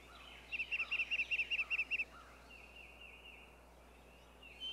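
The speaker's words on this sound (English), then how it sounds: "The real wild turkey is a far more graceful creature than either the barnyard" A wild turkey gobbles in a quick, rattling series of about eight notes, faint and distant over a quiet outdoor background, followed by softer calls.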